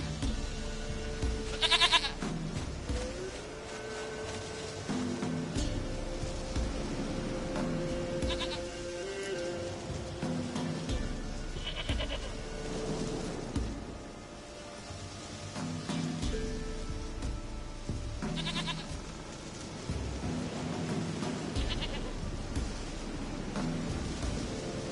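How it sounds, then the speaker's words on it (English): Goat bleats from the video game Witcher 3 recur at intervals through a long stretch, rising over a continuous ambient game backdrop with no speech. "Goat of mine, dearest, sweetest goat."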